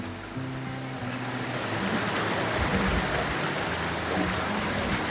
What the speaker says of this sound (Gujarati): સરસ મજાના ઝરણા રહી રહ્યા છે